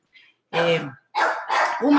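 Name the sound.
dogs barking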